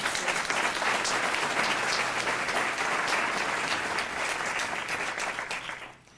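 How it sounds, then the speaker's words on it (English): An audience at a leadership panel event applauds the panelists: sustained, even clapping from a full room that holds steady, then tapers off at the end. "Let's just give them a round of applause."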